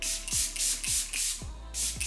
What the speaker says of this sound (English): So now I'm gonna go ahead and finish everything with the spray.